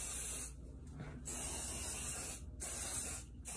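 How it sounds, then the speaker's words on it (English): Three hissing bursts of an aerosol heat protectant sprayed onto hair, each lasting about a second or more, close and fairly loud with brief gaps between. "So now I'm going to spray the top layer with my heat protectant"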